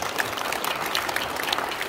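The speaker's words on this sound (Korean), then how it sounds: "한번 뜨겁게 박수로 격려를 부탁드립니다." Brief, moderately faint applause from an audience in a large auditorium at a New Year ceremony and inauguration of a Presbyterian council leader in Seoul, a light steady patter of hands.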